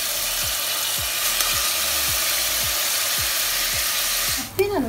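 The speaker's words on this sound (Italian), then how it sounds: "il soffrittino sta facendo questo bellissimo suono e inseriamo il nostro polpo" Octopus pieces sizzling in a pan of frying soffritto for octopus soup, a steady, loud hiss with a rhythmic low scraping of stirring and a clatter near the end.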